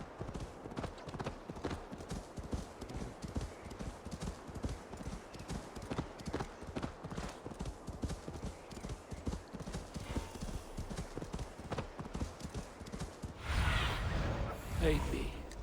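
Steady rapid clip-clop of horse hooves at a gallop in Assassin's Creed Valhalla, close and continuous, with a louder burst of noise near the end.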